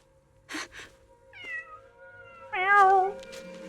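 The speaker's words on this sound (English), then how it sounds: "orange cat that Zhao Guang saved when I first met her" An orange cat in the video game Zenless Zone Zero meows: a short cry, then a longer, rising call, and a loud drawn-out meow near the end, close and clear with no talk over it.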